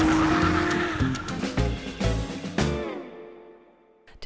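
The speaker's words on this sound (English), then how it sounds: "Do a burnout to celebrate and make sure both tires spin." A BMW E46 with a welded rear differential does a burnout, engine revving hard in rhythmic surges as both rear tires spin and squeal, loud and close, then the engine dies away into near quiet.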